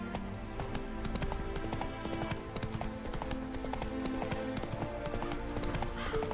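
Hooves of Roach, the horse in a video game, clip-clopping in a steady galloping rhythm throughout, loud and close, with brief faint neighing and no talk.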